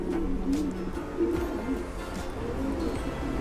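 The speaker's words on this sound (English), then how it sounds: "This is one of my main pigeons at the moment." Racing pigeons, roundabout cocks in a loft, coo repeatedly in soft low rolling calls, several birds overlapping at moderate distance with steady background noise.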